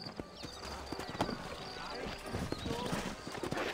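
Horse hooves clip-clop at a steady walking rhythm during a ride in the video game Red Dead Redemption, set under game voices speaking.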